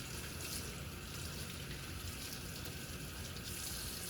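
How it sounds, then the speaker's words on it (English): Water running steadily from a tap over hands being rinsed of soap at a sink, a continuous close hiss and splash with no talking. "going to rinse the soap off of my hands"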